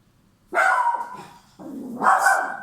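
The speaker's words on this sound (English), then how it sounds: "sorry, that's my dog" A pet dog barks twice indoors, close and loud, two sustained rough barks separated by a brief pause, with no talking over them.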